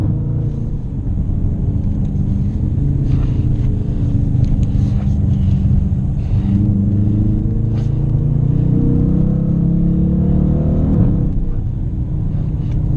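A 2017 Dodge Challenger R/T taking a corner on dry pavement, heard as a steady, loud, low engine rumble from inside the car that swells slightly partway through, with no talking.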